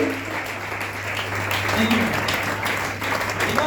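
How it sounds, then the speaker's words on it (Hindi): Audience applause at a Smart Value event in Patna, a steady wash of clapping that holds for several seconds over a low hum, with a voice faintly audible beneath. "जोरदार ताली पूरा कस के"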